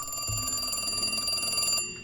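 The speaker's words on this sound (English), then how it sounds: "Gotta get this phone." A telephone rings continuously with a steady, bright electronic warble, fairly loud and alone for about two seconds before cutting off, a low thump near the start.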